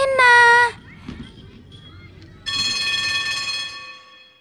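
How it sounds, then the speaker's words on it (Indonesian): A school bell rings in two bursts, a short loud ring followed after a pause by a longer one, with faint children's voices and movement in between. "Bel pun berbunyi."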